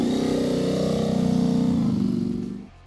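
A powerful Ducati Panigale V4 motorcycle engine holds a loud, steady, throaty drone close up, then quickly drops away and cuts off near the end.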